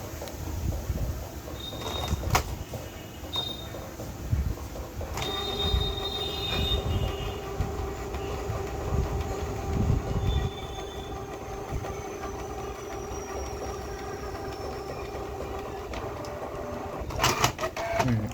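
A photo printer runs through a print job for photo envelopes, giving a long steady mechanical hum with faint whirring tones, scattered clicks and sharp clunks near the start and end.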